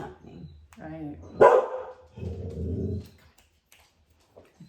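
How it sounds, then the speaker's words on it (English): A dog barks in a short burst of loud, close yips amid conversation, with people talking before and after the barking. "We interrupt this for dog barking."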